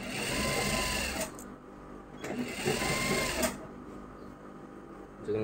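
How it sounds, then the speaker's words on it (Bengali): A tailor's sewing machine stitches a boys' shirt in a cutting-and-fitting shop, running in loud whirring bursts separated by brief pauses, with background voices. "খুব সুন্দর করে কিন্তু এখানে সেলাই কাজটা করা হয়।"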